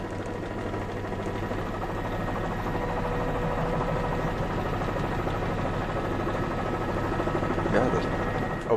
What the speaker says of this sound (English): the Sky 5 is now the only helicopter bringing you these shots of this fire